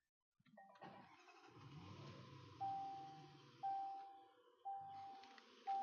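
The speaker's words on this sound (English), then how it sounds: "Let's get the car started here." A car engine cranks and catches, then settles into a running idle. Several sharp, rising tones repeat at regular intervals over it, each one loud and close, and nobody speaks.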